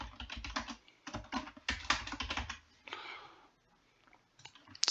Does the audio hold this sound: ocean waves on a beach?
no